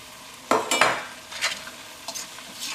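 Fish is stirred into a pickle mixture with vinegar, giving several scraping, wet stirring strokes over a soft sizzle, the loudest pair early on, then lighter swishes.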